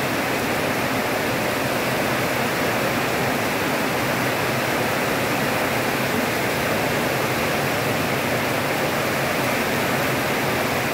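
Wind and heavy rain during Typhoon Opong, a dense, constant roaring hiss of rain and gusting air that stays loud and unbroken throughout, with no voices.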